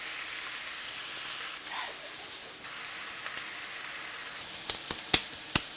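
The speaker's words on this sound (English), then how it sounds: "Let it cook undisturbed until it gets some good color on it." Cheesesteak meat sizzles in a hot pan, a steady bright hiss running throughout, with a few sharp pops and crackles near the end and a brief word spoken.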